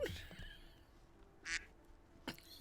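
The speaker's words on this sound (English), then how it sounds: "Quack." Duck quack sound effect played during a game stream, a short loud nasal quack around the middle with a faint quieter sound at the start and another brief one near the end.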